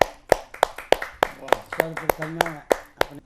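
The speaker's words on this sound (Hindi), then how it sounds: "तो तालियों से हम स्वागत करेंगे विजय कौशिक जी का" A few audience members at a kavi sammelan give sparse, separate claps to welcome a poet, each sharp and close, with voices speaking between them.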